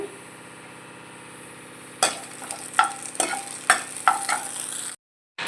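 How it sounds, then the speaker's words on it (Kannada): Dried red chillies frying in oil for horse gram sambar: a faint low hiss, then a louder sizzle with several distinct stirring scrapes before it cuts to silence. "ಫಸ್ಟು ಒಣಮೆಣ್ಸಿನ್ಕಾಯಿನ ಸ್ವಲ್ಪ ನಾನು ಎಣ್ಣೆ ಹಾಕಿ ಫ್ರೈ ಮಾಡ್ಕೊತೀನಿ"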